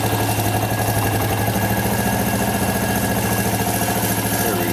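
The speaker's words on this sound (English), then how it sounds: "So that's with the choke on. Oh, that's a low idle, eh?" Suzuki quad ATV idling low with the choke on, a steady close rhythmic putter with a loud even pulse and no speech.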